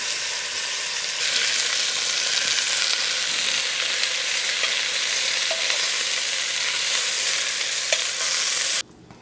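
Beef short ribs sear in a hot pot, a loud, dense, continuous sizzle that hardly varies for nearly nine seconds before dropping off abruptly at the end.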